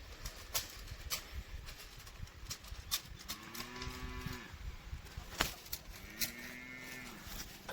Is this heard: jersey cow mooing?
yes